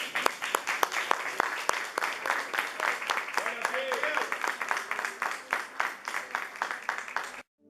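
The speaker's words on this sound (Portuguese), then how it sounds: "Vamos aplaudir o Senhor" A church congregation applauds, a lively run of sharp, close hand claps in a quick rhythm, with voices and some singing underneath, ending abruptly.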